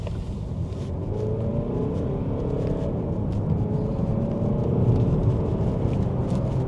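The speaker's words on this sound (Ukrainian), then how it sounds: "Зараз нажимаю газ в пол на драйві і поїхали." A Volvo V90 D4 accelerates hard at full throttle in drive on an open road, its engine a steady, loud rumble and whir that builds slightly in intensity, heard from inside the car without talk.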